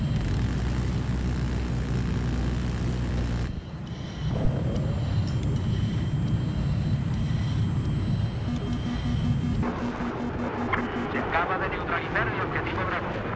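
An airplane engine droning and passing in the video game Battlefield 4, a loud, sustained roar mixed with battlefield noise and shifting tones as the aircraft moves past.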